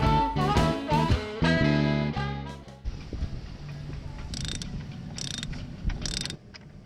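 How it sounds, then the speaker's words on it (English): A turnbuckle is tightened beneath the bowsprit of a sailing vessel, making short bursts of close metallic ratcheting clicks after a few seconds of music fade out. "So when we put this turnbuckle on underneath and tighten it, hopefully that'll pull it forward again."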